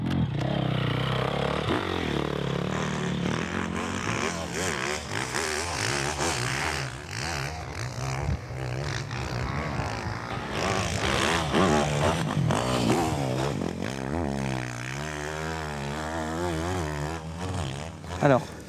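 A racing motorcycle laps a track, its engine revving loudly and shifting pitch as it accelerates and brakes, with a rider's voice heard over the noise.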